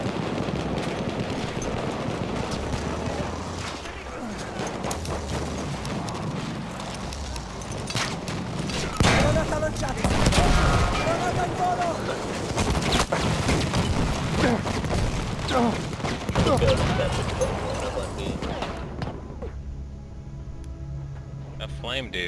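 Machine gun fire and explosions in the video game Battlefield 1, with repeated bursts and heavy booms running through most of the stretch under players talking, before the sound cuts out near the end.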